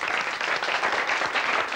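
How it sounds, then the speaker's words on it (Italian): A studio audience at a magic show claps together, a dense, steady wash of applause that stays close and loud for a couple of seconds without any talking. "Sul vostro applauso, grazie."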